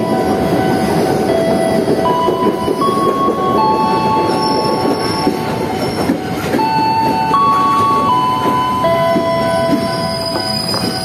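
A commuter train rumbles loudly into Bekasi station on track one, wheels screeching with sustained high-pitched squeals over a heavy, continuous rolling roar.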